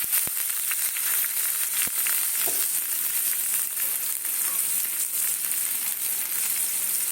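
Tomatoes sauté in a pan with black cumin seeds for a hilsa fish curry, giving a steady, close sizzle and frying hiss throughout with a couple of faint spoon taps.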